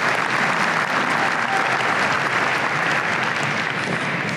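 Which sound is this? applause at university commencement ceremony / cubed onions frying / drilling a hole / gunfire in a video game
applause at university commencement ceremony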